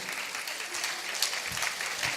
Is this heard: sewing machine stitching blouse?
no